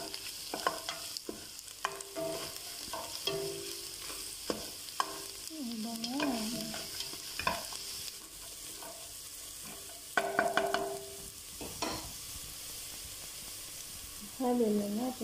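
Macaroni spaghetti stirred in a pan, a spoon scraping and clinking in repeated strokes over a quiet sizzle, with occasional sounds of a voice nearby.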